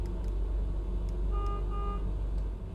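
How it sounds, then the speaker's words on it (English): Two short truck horn honks sound over a steady, loud low engine rumble, in the video game American Truck Simulator. "Give him a little honk."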